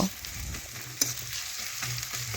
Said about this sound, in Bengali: এখন পেঁয়াজগুলো হালকা আঁচে একটু সময় নিয়ে লাল লাল করে ভেজে নেব